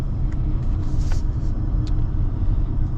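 A 2025 Audi A6 engine hums low and steady while driving, a smooth continuous rumble close inside the cabin with faint road noise and no talking.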